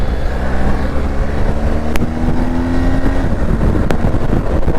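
A truck rumbles past a 2023 Triumph Tiger 1200 GT motorcycle on the road, a steady, loud engine and road roar with a droning tone that shifts as it goes by, under heavy wind buffeting.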